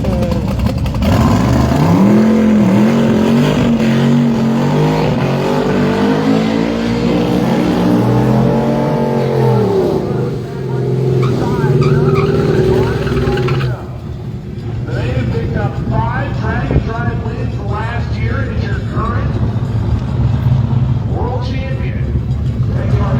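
A drag racing car at Sick Week drag-and-drive event, loud engine roaring and revving with rising and falling pitch sweeps, then a sustained heavy drone as it launches, with crowd and talk mixed in.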